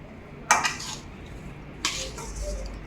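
Churma ladoo mixture being mixed by hand in a metal bowl, two distinct clattering scrapes against the vessel with a quiet pause between.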